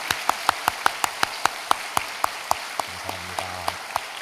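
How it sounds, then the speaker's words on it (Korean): A church congregation applauds its youth departments with rhythmic, evenly spaced unison clapping, steady beats at a brisk pace, with a faint low tone sounding briefly near the end. "우리 한번 뜨겁게 축복하는 박수를 하도록 하겠습니다"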